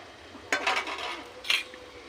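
A spoon presses and scrapes cooked tomatoes through a metal strainer for homemade tomato sauce, two short wet scraping bursts about a second apart, close and fairly soft.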